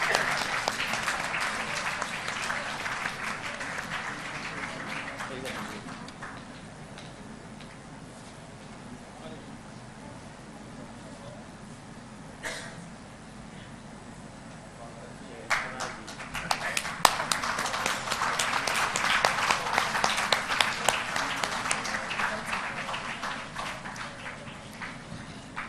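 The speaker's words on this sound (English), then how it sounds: "Please welcome our respected dignitaries with a huge round of applause." Audience applause welcoming dignitaries at an international health conference session, steady dense clapping that thins mid-way, then swells louder again near the end, with a voice speaking faintly beneath the crowd.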